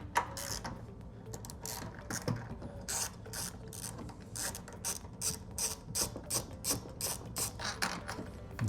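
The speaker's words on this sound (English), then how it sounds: "There's actually two 10 mil bolts on each side, so that's what we're going to unscrew." Ratchet wrench clicking steadily as 10 mm bolts are unscrewed inside a Tesla Model 3/Y during a center screen replacement, rapid rhythmic pawl clicks in repeated bursts, close and fairly quiet with light handling noise.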